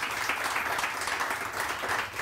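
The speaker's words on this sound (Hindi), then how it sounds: "बहुत सारी तालियां जी, बहुत सारी तालियां" Studio audience applause on a morning talk show, a continuous even patter of many hands throughout the short stretch.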